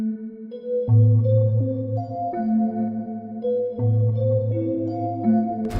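Bell melody for a dark beat, processed with saturation, a crystallizer, reverb and an RC20 vinyl preset: warm, smeared pitched notes in a steady repeating phrase with a washy tail, playing alone without talk.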